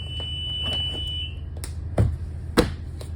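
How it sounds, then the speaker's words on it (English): A school bus emergency window buzzer sounds as a steady electronic tone during a pre-trip inspection, heard moderately under background hum with a couple of sharp knocks as the window is pushed open. "I hear the buzzer."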